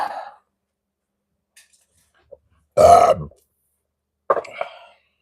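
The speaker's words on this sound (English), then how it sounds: "Beer burps." Beer burps from a man: a short guttural belch at the start, a long loud one in the middle, and a rougher final one, separated by near silence.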